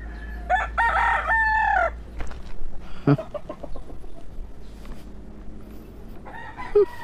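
A rooster crows loudly up close, followed by scattered clucks and squawks from about ten chickens over a steady low hum.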